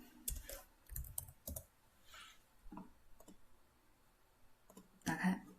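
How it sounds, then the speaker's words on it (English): Mouse and keyboard clicks on a computer running the cutting software for a 4-axis CNC hot-wire foam cutter: scattered sharp clicks, a brief pause, then a denser cluster of clicks at the end. "Then click Start to start cutting."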